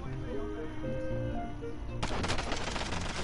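Pistol gunfire in the game Call of Duty: Warzone, with continuous layered battle noise that turns denser and harsher about two-thirds through. A voice is present under the shooting.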